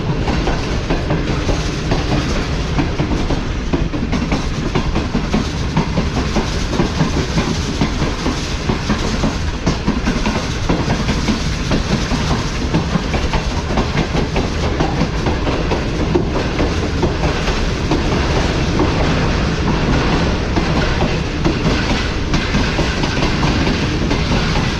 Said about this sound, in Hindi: काफ़ी अच्छा ट्रैक साउंड सुनने को मिला।